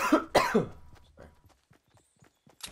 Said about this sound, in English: Coughing in the mic.